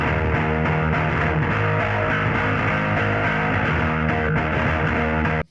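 Bass tone through a Marshall 'Hammer' bass amp, from a track: a dense, heavily overdriven, grinding bass riff that plays continuously and loud, then cuts off abruptly.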